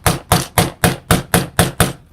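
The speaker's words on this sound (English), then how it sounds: "I'm going to use a hammer, and I'm going to put the axle into here" A hammer gently taps an axle into a hobby solar car kit, eight evenly spaced, sharp knocks at a steady rhythm, close and loud with no talking.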